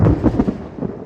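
A short burst of low, crackling rumble from nearby thunder rolls and fades over about a second.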